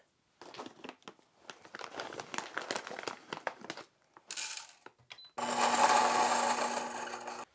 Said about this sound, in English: All right, let's grind these up.